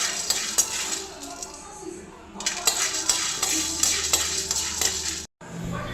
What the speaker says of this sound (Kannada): ಇವಾಗ ಒಂದು ಪಾತ್ರೆಗೆ ಅವರೆಕಾಳು ಹಾಕಿ 1-2 ನಿಮಿಷ ಲೋ ಫ್ಲೇಮಲ್ಲಿ ಅವರೆಕಾಳನ್ನ ಹುರ್ಕೊತಿದ್ದೀನಿ